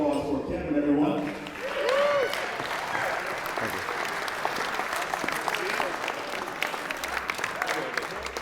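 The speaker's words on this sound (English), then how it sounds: "Good round of applause for Kevin, everyone." Wedding guests break into a round of applause after a best man's toast to the bride and groom, a dense, steady clapping that starts as a voice trails off and carries on alone.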